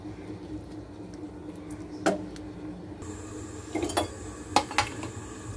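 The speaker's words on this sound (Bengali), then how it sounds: "এবার আমাকে এটাকে চুলায় দিয়ে ভালোভাবে নাড়াচাড়া করতে হবে" Food is stirred in a pan on the stove: a low background hiss under several sharp metallic scrapes and clinks of a utensil against the pan, clustered toward the end.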